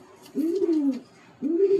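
Tail pigeons (lej payra), restless caged birds, give two low rolling coos one after another, close by and fairly clear with no talk over them.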